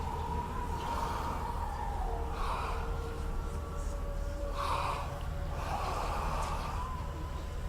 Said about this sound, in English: Yes, the head is breathing.